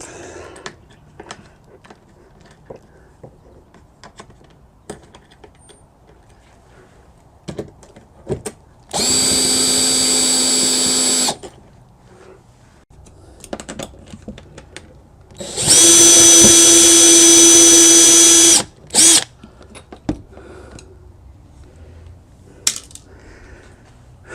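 Power drill backing out a row of small nut-backed screws from a Vibe Sea Ghost 130 kayak hull, with two sustained whirring runs of a few seconds each, the second louder, separated by quiet handling clicks.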